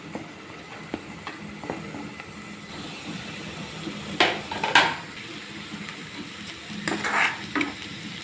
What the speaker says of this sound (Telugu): మనకి పచ్చివాసన పోయేలాగా వేగాలి కదా, వేపుకుందాము